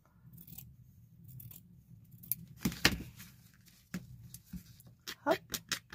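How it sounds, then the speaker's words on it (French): Scissors snipping paper while a paper bag is made, with several short, crisp cuts in quick succession after a voice speaks. "Je coupe un petit bout ici."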